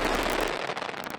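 Fireworks at the Airbus groundbreaking ceremony for new assembly lines in Mobile, Alabama: dense, loud crackling and popping bursts that run continuously, then thin into scattered sharp cracks.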